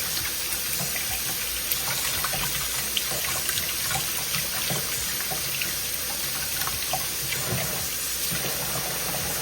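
Water runs steadily from a kitchen faucet into a sink during cooking, a continuous close hiss and splash with small clatters, no voices.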